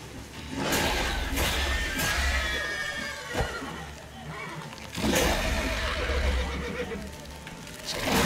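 A horse whinnies a few times over a steady soundscape with hoofbeats and background rumble in The Witcher 3: Wild Hunt.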